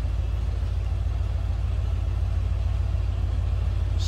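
A 1976 Cadillac Fleetwood Brougham with 23,546 original miles runs at idle, heard from behind the car as a smooth, steady low rumble with a faint rhythmic pulse and no talking over it.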